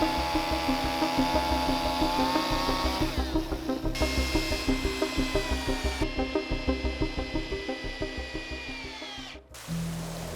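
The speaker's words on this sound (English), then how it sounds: "I exchanged the handsaw for a chainsaw." A chainsaw cuts wood for a homestead sheep shed, running in a steady rapid pulsing rhythm at close range for several seconds before cutting off abruptly near the end.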